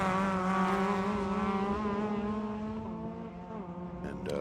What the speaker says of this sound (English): you see him right now coming into the Hawk Performance braking zone over at turn